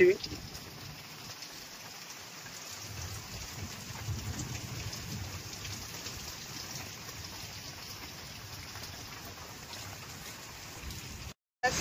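Heavy rain pours in a steady, dense hiss with a faint low rumble underneath, continuous for the whole stretch before cutting off abruptly near the end.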